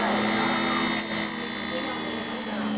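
Flex shaft tool with a green carving bit hollowing out the inside of wax on a wax lathe, a steady high motor whine with a continuous grinding hiss, droning without a break.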